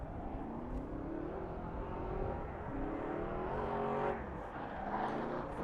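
A drift car at the LS Fest drift challenge holds a loud, steady engine roar with rising and falling revs, rough and close throughout, with no talk over it.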